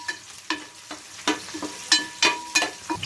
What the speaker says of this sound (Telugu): ఈ ఉల్లిపాయ ముక్కలు ఎలా ఎగితే చాలండి